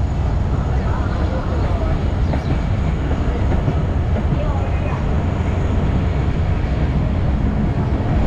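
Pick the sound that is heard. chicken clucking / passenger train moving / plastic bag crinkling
passenger train moving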